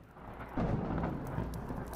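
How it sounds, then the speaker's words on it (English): A low, rumbling thunder roll from a lightning strike in the game Lyre swells about half a second in and holds steady, with a rain-like wash throughout and no talking. "Raynar flinches as lightning strikes over the horizon"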